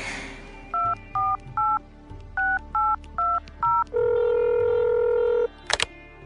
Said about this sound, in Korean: 전화 걸어야지.